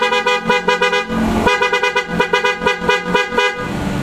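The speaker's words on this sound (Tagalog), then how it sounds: "At pakinggan natin ngayon mga boss yung tunog ng auto style horn." OTO Style PIAA car horn on a 2024 Toyota Raize honks in a rapid series of loud, close, bright blasts, several short toots followed by a longer held tone and more quick bursts.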